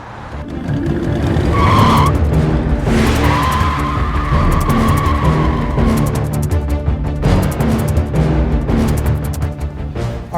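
A car drives along a road close by with a loud, continuous engine roar and rumble, and tire squeals and skid-like whines rise over it at moments as it moves past.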